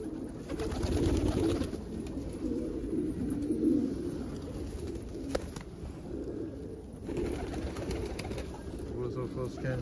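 Pigeons cooing outdoors in falling snow, soft repeated low coos over a muffled background, with faint voices at times.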